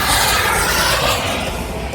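Large bamboo rocket launching at a Bun Bang Fai festival at a temple in 2024, a loud continuous roaring rush that fills the whole stretch without letup, close and powerful.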